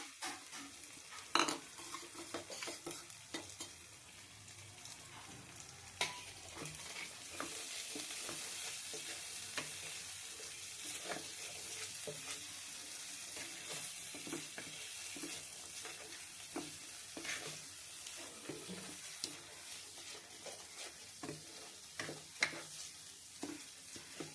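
Spinach paneer masala being sautéed and stirred in a hot pan, a soft continuous sizzle broken by frequent scraping and clinking stirring strokes, close and fairly quiet, with brief running tap water mixed in.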